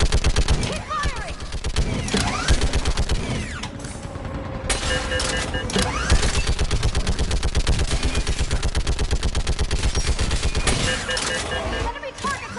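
Rapid, sustained automatic gunfire from a Mass Effect 3 battle on Insanity difficulty, loud and nearly continuous, with shouted voices from the fight mixed into the barrage.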